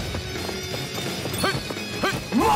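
Horse hooves clip-clop at a running pace in the Tales of Arise role-playing game, with rhythmic hoofbeats, some high, whistling tones over them, and a louder burst at the end.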